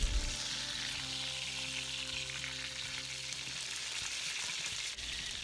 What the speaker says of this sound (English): While I'm frying up the second batch